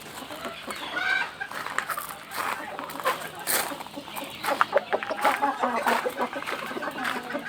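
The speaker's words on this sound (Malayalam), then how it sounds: "സിൽവർ ലൈസ് എന്ന ഇനത്തിൽപ്പെട്ട കോഴികളാണ്." Silver Laced chickens cluck in a poultry farm, with other fowl calling around them and a possible distant rooster crow, while a voice talks over the steady, busy flock.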